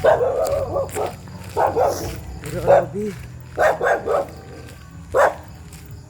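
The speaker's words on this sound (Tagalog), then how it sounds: "May aso pala dito guys" A dog barks repeatedly in short bursts, some yelping, while a person talks over it nearby.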